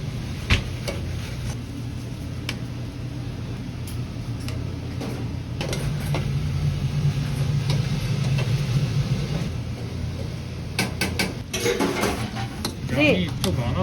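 A large portion of a spicy sauce dish is stir-fried in a pan in a busy restaurant kitchen, with a steady sizzle, metal utensils scraping and clanking against the pan, and sharp clicks near the end.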